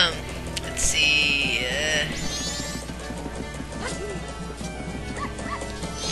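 Cartoonish dog barks from the Zelda Majora's Mask video game, a few yips and woofs mixed into busy game music and sound effects, with someone talking over them.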